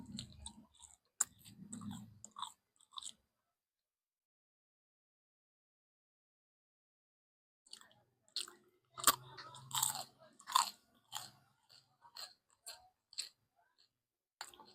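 Crispy turon, a banana spring roll, gives a few close crunchy bites and chewing, then silence, then a longer run of crackly crunches and chewing with no talking.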